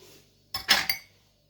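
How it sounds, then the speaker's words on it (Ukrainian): A brief burst of a spoon clinking and scraping against a bowl while mixing eggs and oil for doughnut dough, three quick knocks in close succession, then quiet. "Гарно все перемішую"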